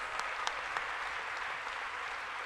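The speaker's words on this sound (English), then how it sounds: "could we have a huge round of applause for all the 7 session coordinators?" Audience applause for session coordinators closing a plenary session at a conference, a dense steady wash of many hands clapping at moderate distance throughout, with a few sharper claps standing out.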